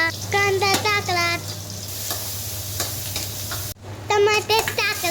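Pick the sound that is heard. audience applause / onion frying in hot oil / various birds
onion frying in hot oil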